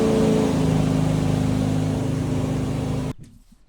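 A Chevy 6.2 DI engine powers a Wooldridge 19' Scout boat on the water, a loud steady roar with broadband rush that cuts off abruptly near the end, leaving near silence.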